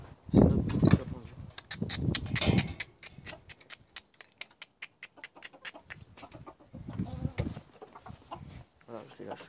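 Farmyard hens clucking after being let out of their coop, bursts of loud close clucking and cackling with quieter pecking and scattered calls between, alongside some talk.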